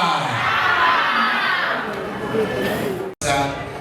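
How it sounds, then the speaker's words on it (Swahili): Wedding crowd at a soldier's wedding ululating and cheering, a dense, loud wall of shrill trilling voices and shouts sustained throughout, broken by a brief dropout near the end. "Vigelegele na shangwe."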